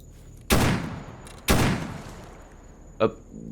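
Video game gunfire in Escape From Pripyat: two sharp, loud shots about a second apart, each decaying into a reverberant tail, followed by a softer third report.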